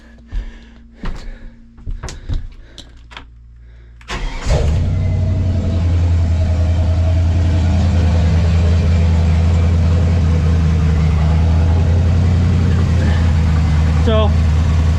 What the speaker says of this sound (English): so when the engine's sitting there warming up, idling,